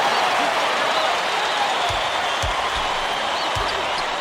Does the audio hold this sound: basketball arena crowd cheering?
yes